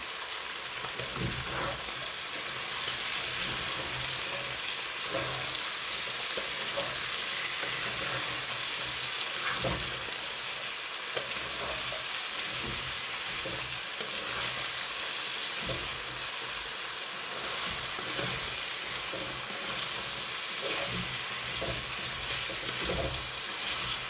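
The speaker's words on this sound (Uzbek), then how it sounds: "Birgalikda qovuriladi." Potatoes, carrots and turnips fry together in a pan of hot oil, a steady close sizzle running throughout with occasional crackles and stirring scrapes, no talking.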